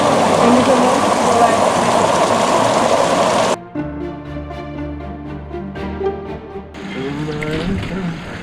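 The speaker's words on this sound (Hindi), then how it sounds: "बहुत ज़ोरदार बारिश हो रही है, इसलिए हम यहाँ पे खड़े हुए हैं" Heavy monsoon rain pours down where cyclists have stopped to shelter, a dense loud roar for several seconds that cuts to softer dripping and splashing, with voices talking over it.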